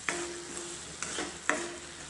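Fried green chillies tossed with garam masala and amchur powder are stirred in a pan. A spoon scrapes in steady strokes, with a few sharp clinks over a soft, close sizzle and no talking.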